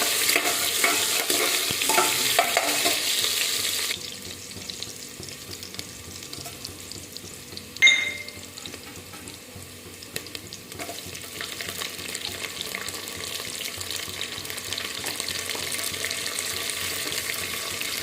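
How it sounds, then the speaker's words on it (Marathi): Chopped onion fries in a generous pool of oil with a steady sizzle that is loud at first, then settles to a softer crackle, broken by one sharp utensil clink against the pan. "आधी कांदा फ्राय करू"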